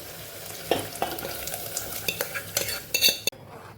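A spoon stirs Kathiyawadi yogurt curry with mung beans in a pan, scraping and clinking in quick irregular strokes against a faint sizzle, up close, ending with a sharp knock.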